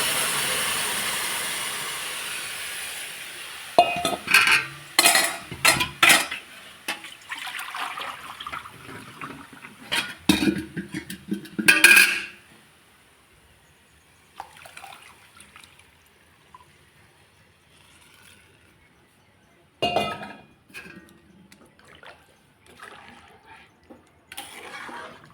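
Water poured into a pot of lightly fried rice for basanti pulao, a splashing, trickling pour in several bursts with clattering pot sounds, then quieter bubbling.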